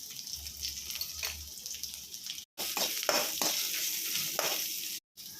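Red chilli and turmeric sizzle steadily in hot oil for horseradish chutney, with scraping stirs across the pan and two brief silent gaps.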